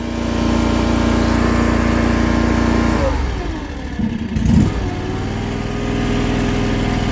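A HUAYEE 480C mini skid steer's small engine runs at a steady loud drone, then the pitch drops and wobbles as the throttle is pushed all the way down, settling into a lower, rougher running note nearby.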